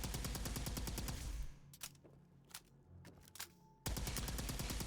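A gamma wave emitter pistol in Fallout 76 fires in rapid, buzzing bursts of pulsing shots, pauses for a few sharp isolated zaps, then resumes its fast rattling stream.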